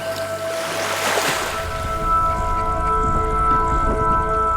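Strong river current swollen after days of rain as water buffalo struggle to cross, a steady broad rushing of water with turbulent churning throughout, fairly loud and continuous with no talk.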